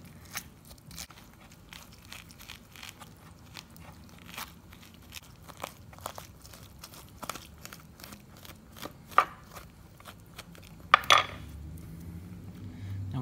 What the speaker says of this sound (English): Now with this grapefruit I juiced, I'm gonna begin scooping it out.